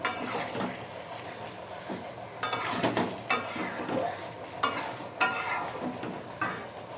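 Meat is stir-fried in oil for kosha in a home kitchen, with a continuous close sizzle broken by repeated bursts of stirring and spoon scraping against the pan, and no talking.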